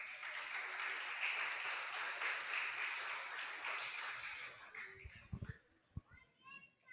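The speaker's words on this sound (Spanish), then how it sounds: "Un aplauso, por favor." Applause from a school audience at an Ecuadorian Teachers' Day program fills the first five seconds as dense, steady clapping mixed with children's chatter, then breaks off into a few scattered claps.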